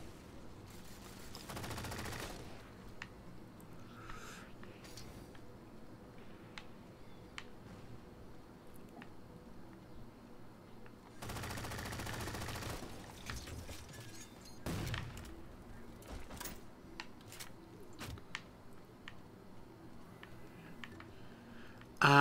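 Heavy mounted gun firing in Halo 4, with two long, loud bursts of sustained fire separated by quieter stretches full of scattered sharp shots and clicks.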